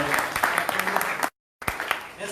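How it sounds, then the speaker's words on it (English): Audience applause, a short burst of many people clapping that cuts out abruptly to silence and then resumes briefly, with voices faintly mixed in. "Let us give a big applause to"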